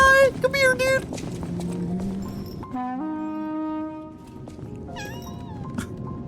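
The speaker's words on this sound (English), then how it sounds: "Oh, there's the cat." A cat meows in the video game Lies of P, several short mews near the start and more later, over game ambience and a steady tonal music or sound effect, with hoofbeat-like clatter at moments.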